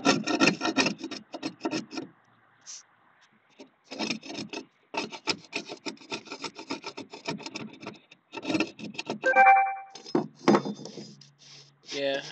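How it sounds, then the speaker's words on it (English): Power grinder working out an imperfection on an 86 Sea Ray boat during restoration, running in repeated short rasping bursts with gaps, close and fairly loud, with brief speech in between. "I guess I can just grind it out"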